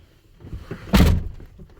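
A single solid thunk of a truck door being shut nearby, with quiet surroundings before and after.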